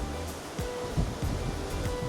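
Sea water washing and surging against the hull of a rocking cruise ship, heard from a deck about fifteen feet above the surface as a steady broadband wash with a few louder swells.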